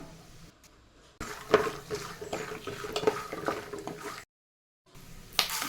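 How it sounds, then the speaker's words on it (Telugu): Mustard seeds, peanuts and dried red chillies are stirred in a kadai with ghee, a close scraping and rattling with light sizzle, broken by a short silent gap, no voices. "ఇప్పుడు ఆవాలు పల్లీలు ఎండుమిర్చి వేసుకొని ఒకసారి కలుపుకుందాం"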